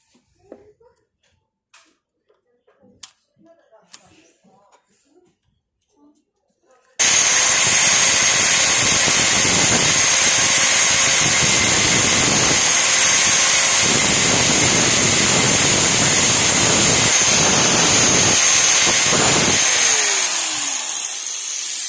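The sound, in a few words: power tool cutting a metal plate at an angle, bicycle chain fix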